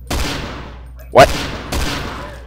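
Three loud, close gunshots from the video game SMOD Outbreak, evenly spaced bursts with the middle one sharpest, each trailing off quickly.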